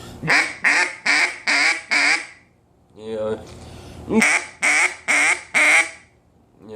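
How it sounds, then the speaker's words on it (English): A Timber Boss duck call sounds a run of short, evenly spaced quacks, pauses briefly for a softer drawn-out tone, then resumes with more quacks. "I mean, there's a quack"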